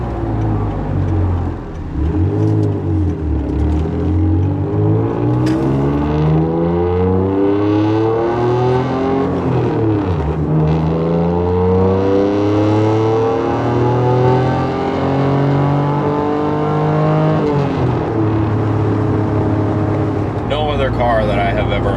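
An Acura NSX on the road, its exhaust rising and falling in loud continuous sweeps as the engine revs up through gears and eases off, heard close from inside the car without pause.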